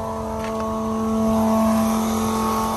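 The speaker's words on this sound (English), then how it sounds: "That's the diesel pump working" Diesel pump on a broken-down Volvo semi truck running steadily, a close, continuous electric motor hum with a strong tonal whine that holds level for the whole stretch.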